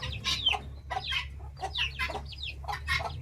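Chickens cluck in short, repeated bursts nearby, a lively run of calls from a small group foraging outdoors.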